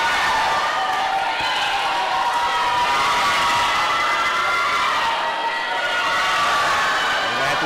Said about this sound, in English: Getting a lot of support from their teammates at the end of the pool. You can see cheering them on.